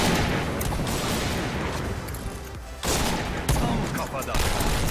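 Rifle and automatic gunfire in Point Blank, a WW2-themed online shooter, comes as dense, loud bursts that break off once near the middle and then resume.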